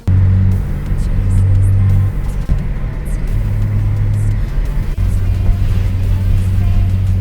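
A BMW fitted with a carbon steering wheel drives along with a steady, loud low engine drone and road rumble heard from inside the cabin, with small shifts in pitch as it moves.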